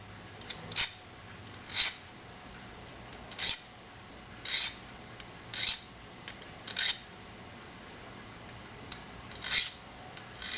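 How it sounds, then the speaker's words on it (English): A serrated knife is drawn against a Smith's sharpener rod, producing short gritty scraping strokes spaced at irregular intervals over a faint background hum, close-up and fairly quiet. "as I go to the deeper ones, or the bigger serrations, I use the fatter part of the sharpener"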